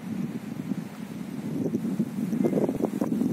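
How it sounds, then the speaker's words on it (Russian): Wind gusting and humming outdoors on a spring walk, a steady low roar of buffeting on the microphone with brief louder gusts toward the end, no voices. "Даже не обращайте внимания, что ветер гудит."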